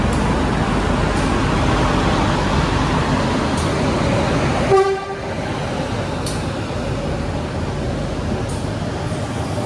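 Steady rumble of the Adi Sumarmo Airport train in Solo running along the tracks, with a brief horn-like tone partway through, then continued rolling noise.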